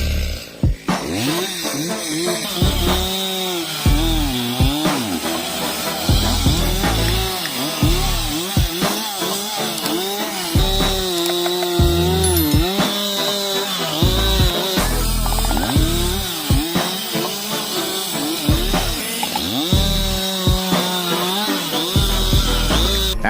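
Chainsaws cut through wood continuously, engines revving up and down in repeated bogging swells as the chains bite, loud and close, with no talking.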